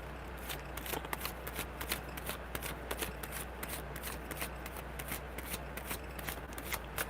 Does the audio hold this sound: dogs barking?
no